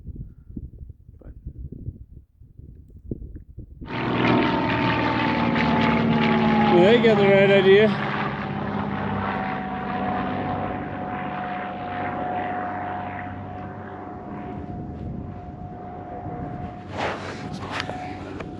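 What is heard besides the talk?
small plane flying past overhead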